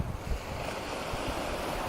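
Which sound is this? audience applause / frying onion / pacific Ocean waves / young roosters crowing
pacific Ocean waves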